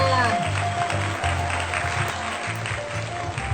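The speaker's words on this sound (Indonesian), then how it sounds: "Mari tepuk tangannya. Tepuk tangannya." Audience applause at an Indonesian Independence Day comedy stage show welcoming a comedian, clapping from a small outdoor crowd that runs steadily under an MC's voice and music.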